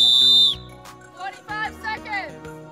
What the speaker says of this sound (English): Blow one whistle at 45 seconds and call out 45 seconds or sooner.